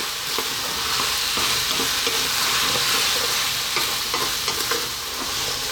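Ground beef frying with garlic ginger paste, salt and fresh chili for aloo keema, a loud, dense, continuous sizzle with steady stirring scrapes throughout, close up.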